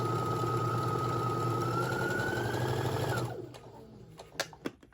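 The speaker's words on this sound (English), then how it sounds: "Okay, I'm going to go ahead and sew all the way down." A sewing machine stitching a patchwork tote bag seam runs steadily and close for about three seconds with a rising whine, then winds down and stops, followed by a few sharp clicks and handling knocks.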